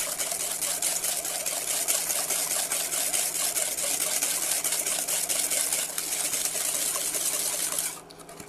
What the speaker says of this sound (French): il faut vraiment bien fouetter pour bien mélanger le sucre et l'œuf ensemble.